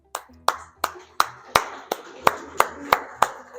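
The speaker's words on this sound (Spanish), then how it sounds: "Ahora dense un aplauso." Audience at a psychology congress clapping in unison, about ten sharp, evenly spaced claps with faint voices beneath.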